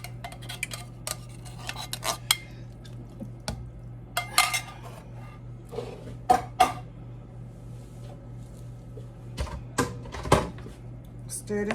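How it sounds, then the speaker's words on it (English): Spoon stirring broccoli and cheese chowder in a pot, with irregular scraping and clinking taps against the metal over a low steady hum, and a voice talking intermittently. "Stir this up."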